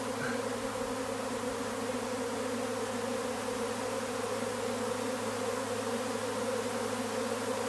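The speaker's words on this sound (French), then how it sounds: "Voilà, la ruche essaime." A honeybee swarm streams out of its hive in a dense, steady buzzing drone of countless bees, loud and close and unbroken from start to finish.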